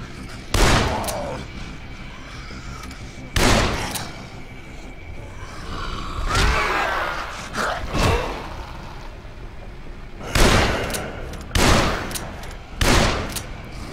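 Gunfire in the zombie survival game Dead Island: loud, sharp bursts of shots in separate volleys, several quick clusters spaced across the stretch with quieter gaps between.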